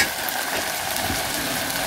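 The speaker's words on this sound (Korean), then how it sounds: "짜장이 소리를 내면서 익고 있습니다." Steady, close sizzling of black bean sauce frying in a hot pan, a continuous crackling hiss with no talking.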